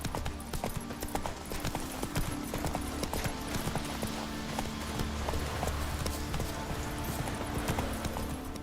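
Horse hooves clip-clop at a steady trotting rhythm in The Witcher 3, continuous and fairly close over low game ambience.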